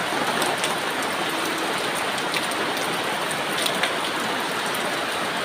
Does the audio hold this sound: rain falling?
yes